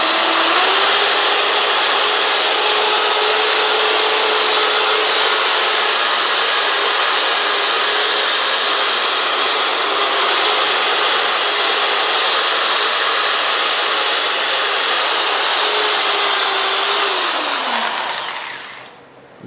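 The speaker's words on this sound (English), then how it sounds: "it's easiest just to fire up a drill with a wire brush on it, and that'll take care of a lot of the junk" A handheld drill spins a wire brush to scour caked grime off an NP205 transfer case in a driveway, a loud steady high-pitched whir with a constant motor drone that holds for nearly twenty seconds before winding down at the end.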